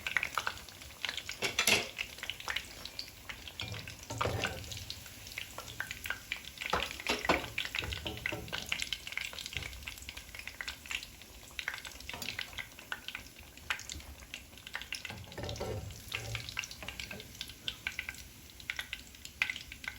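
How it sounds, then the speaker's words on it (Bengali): Shrimp pakoras deep fry in a pan of oil, a soft continuous bubbling sizzle close by, punctuated by clinks of a metal utensil against the pan and occasional stirring, with no talking. "এভাবে আমি বাকি সব পাকোড়াগুলো ভেজে নিব।"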